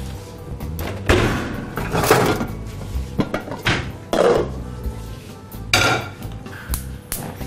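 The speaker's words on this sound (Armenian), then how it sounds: "Գազ օջախին հայտնվում է տապակը։" Metal frying pan set onto a gas stove in a home kitchen, several sharp clanks and knocks in an irregular rhythm, close and fairly loud with brief quiet gaps between.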